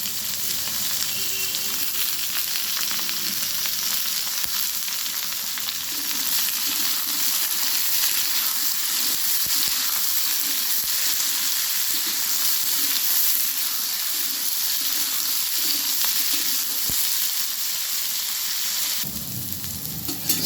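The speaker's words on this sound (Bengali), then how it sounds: "সব সবজিগুলো আমি খুব ভালোভাবে ভেজে নিয়েছি।" Potato, radish and beans fry in hot oil, giving a steady, loud, crackling sizzle that runs continuously without pause and eases slightly near the end.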